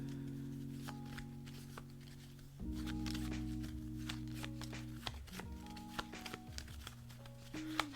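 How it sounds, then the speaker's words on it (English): A discard pile of game cards is shuffled during a solo board game session, giving repeated riffling and rustling bursts with crisp card flicks. A low, steady tonal hum runs underneath the shuffling. "Shuffle the discard."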